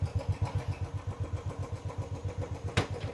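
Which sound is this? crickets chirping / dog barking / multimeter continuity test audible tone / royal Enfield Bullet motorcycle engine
royal Enfield Bullet motorcycle engine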